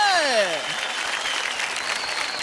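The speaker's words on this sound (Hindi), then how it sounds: "जोरदार तालियां हो जाए" Loud, steady applause from an audience after a dance performance on a TV dance competition show, with a few sliding tones fading at the start as the clapping swells and carries on.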